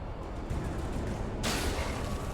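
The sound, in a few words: gunfire in Alan Wake Remastered video game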